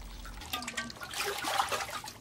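Water trickles and splashes as pots are rinsed in a village water tank in a Japanese water garden, an irregular, moderately close burbling with soft splashy bursts.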